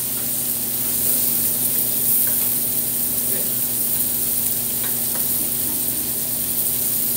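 Scallops searing in a hot pan give a dense, even sizzle that holds steady throughout, close and fairly loud, with faint scattered pops and no clear voices.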